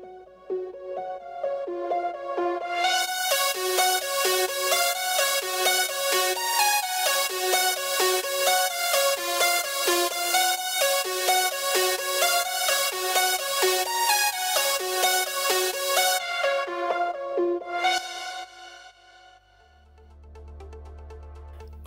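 Layered progressive house lead synth, four stacked layers built in FL Studio, plays a bright melody of steady rhythmic notes, loud and alone, then stops sharply and leaves a brief low tail.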